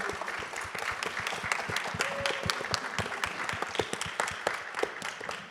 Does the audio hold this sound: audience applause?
yes